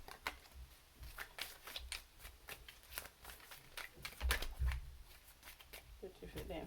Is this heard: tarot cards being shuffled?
yes